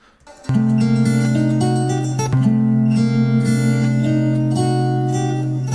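A guitar strums a few sustained chords in G harmonic minor, ringing clearly and close up, with one chord change partway through and the notes left to resonate.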